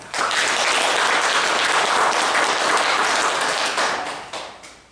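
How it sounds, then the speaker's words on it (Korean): A church congregation claps together in encouragement for a pastor during a Sunday service, dense steady applause filling the room for about four seconds before thinning out and tapering off. "격려의 박수 한번 하겠습니다"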